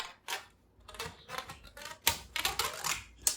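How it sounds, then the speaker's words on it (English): A cap and diffuser are worked off an aluminum LED profile with a quick run of crisp, close plastic clicks and snaps, irregular and light, with no talking. "remove the LED aluminum profile cap and the diffuser"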